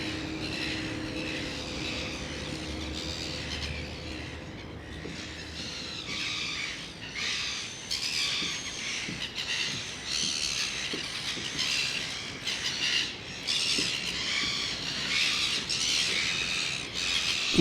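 Seagulls squawk and cry over and over, a noisy flock calling close by above a steady rumbling background while fishing, with no one talking.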